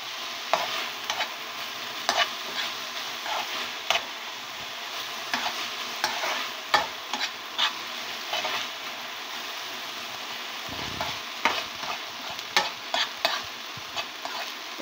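Sweet jute leaves (pat shak) stirred and fried in a pan, village style: a steady bed of frying sizzle, loud and close, broken by frequent sharp scrapes and clacks of the stirring utensil against the pan, with no talking.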